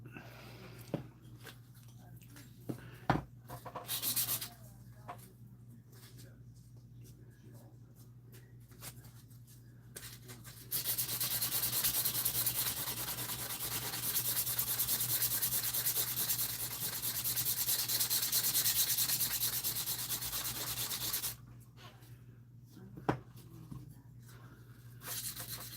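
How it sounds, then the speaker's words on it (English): A Dremel rotary tool grinds perpendicular scratches off a knife blade, a steady close-up buzzing rasp that runs about ten seconds between quieter stretches of handling. "I think I'm going to have to use the Dremel tool to get them out."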